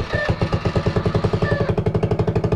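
A GY6 scooter engine running on old, stale fuel, its loud, close exhaust chugging in a steady rapid pulse that quickens slightly toward the end, with no voices over it.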